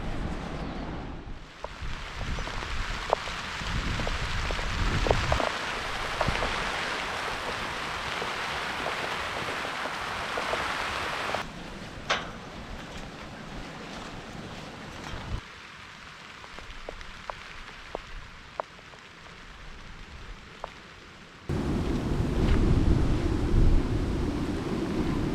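Steady heavy rain on the Cape to Cape track in South West Western Australia, pattering hard on surfaces, a dense continuous hiss with wind buffeting the microphone, growing louder toward the end.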